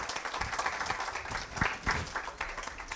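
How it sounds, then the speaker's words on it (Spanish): An audience at a developer talk claps for a speaker named Oscar, a dense, continuous patter of many hands with a faint murmur of voices underneath. "démosle un fuerte aplauso a Oscar"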